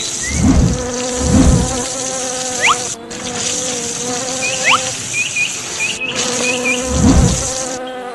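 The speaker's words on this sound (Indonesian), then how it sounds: "Lihat bagaimana para lebah itu terbang menghindar dengan panik." Bees buzzing around a hive being sprayed with water, with several loud close passes as they fly off in a panic and a steady insect drone underneath.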